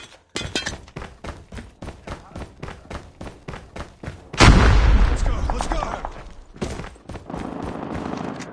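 A frag grenade explodes in the Call of Duty Mobile video game, a loud booming blast with a long crackling tail that follows a steady run of rhythmic gunshots, and more firing comes in afterward.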